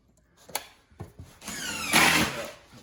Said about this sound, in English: take these snips, cut that right down to the floor